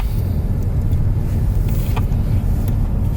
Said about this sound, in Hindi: तो नाज़रीन ये हम अभी गाड़ी अपनी सीधी शिप में डाल रहे हैं